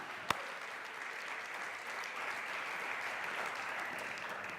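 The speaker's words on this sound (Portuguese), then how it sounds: "dá um aplauso ao Senhor" A church congregation claps steadily through a sustained wash of applause, opening with one sharp clap, at moderate distance and without talk.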